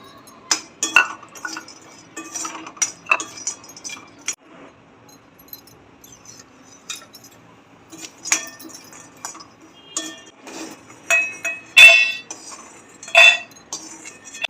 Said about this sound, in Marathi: जावित्री पण भाजून घेऊया